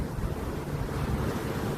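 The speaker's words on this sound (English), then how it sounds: "As the waves hit the shore" Ocean waves breaking on a shore make a steady, full roar of surf with wind noise, continuous and fairly loud throughout, with no voices.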